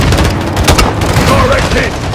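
Launcher fire and explosive hits in Call of Duty Modern Warfare 2 amid a dense battle of crackling rifle fire and booms, loud and continuous, with voices faint under the din.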